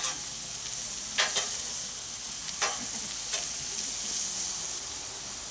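Vegetables including onions stir-fry on a Blackstone griddle, a steady close sizzle broken by a few sharp scrapes and clacks of metal spatulas.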